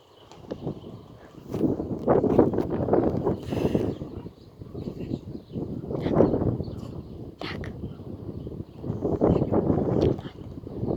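Gusty wind buffets the microphone in rumbling waves that rise and fall over several seconds, loud and close, at the Gdynia Chylonia railway station.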